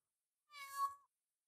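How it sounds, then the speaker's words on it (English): A single clear cat meow, close and fairly loud, rising and falling over about half a second with nothing else around it. "Podcast cat says meow."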